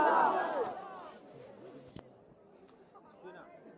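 A large outdoor political rally crowd roars and shouts together in one loud surge that fades into scattered voices and murmuring, distant and echoing.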